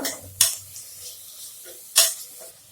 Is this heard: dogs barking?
no